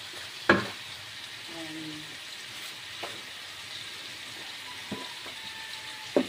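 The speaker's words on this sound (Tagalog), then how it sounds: "isali na rin natin ito sa paggisa" Chicken and thick-sliced vegetables sauté in a pan for tinola, a low steady sizzle with a few clinks of a utensil against the pan, moderately close, no talking.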